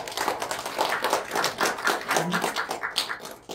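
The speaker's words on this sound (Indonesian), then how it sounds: "Bisakah tepuk tangan untuk kita semua?" Scattered hand clapping from a church congregation at an online worship service, moderately loud and steady with a faint murmur of voices underneath.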